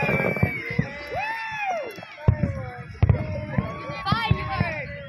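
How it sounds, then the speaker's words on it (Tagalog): Fireworks burst over Dubai at a 2023 display, a few sharp booms cracking out over a loud, excited crowd with people talking and shouting nearby. "Fireworks everywhere."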